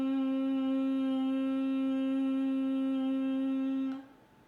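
A voice holds a sustained, humming 'ng' as a vocal warm-up. The steady, rich tone continues for about four seconds before cutting off into quiet.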